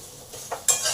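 Potatoes with salt and turmeric are stir-fried in a pan, with a spatula scraping through them amid a rising sizzle in a short, close burst.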